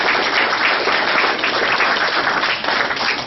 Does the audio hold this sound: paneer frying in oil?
no